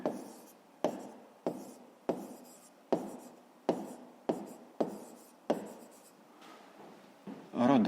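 Pen or pencil scratches on paper during a fifth-grade maths exercise: a steady series of about nine short writing strokes, each with a crisp onset that fades. The strokes are close and quiet, and a brief voice comes in at the very end.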